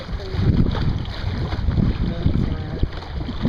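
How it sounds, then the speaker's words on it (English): Strong wind buffeting a small Puddle Duck sailboat out on the water, a loud, continuous low rumble of gusts against the microphone with water splashing beneath. "Now that's wind."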